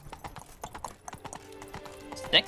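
A horse's hooves clip-clop in a quick, uneven trot on hard ground in the video game The Witcher 3: Wild Hunt on PS5, with a short whinny near the end.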